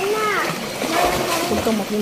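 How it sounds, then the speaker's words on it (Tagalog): A person jumps into a pool below a waterfall, making a brief splash amid the constant roar of falling water, while excited voices shout and cheer over it. "Si Mayor tatalon!"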